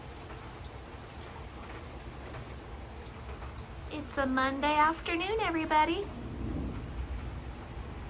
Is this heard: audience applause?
no